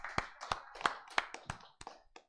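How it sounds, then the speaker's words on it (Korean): Eight separate claps ring out in an uneven rhythm from a church congregation during a Full Gospel Sunday worship service, fairly close and alone, each one sharp and fading quickly. "하나님께 영광의 박수 돌려드리겠습니다."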